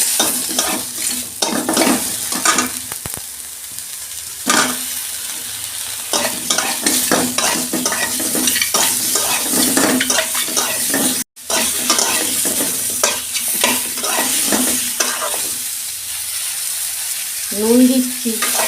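Mango pieces for a sweet-sour chutney frying in a pan, loud continuous sizzling with repeated scraping strokes of a spatula stirring them, steady throughout with a brief cut midway.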